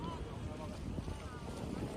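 A tour boat approaching Amalfi on the Mediterranean, with a low engine drone, water wash and wind buffeting the microphone in a brief continuous stretch.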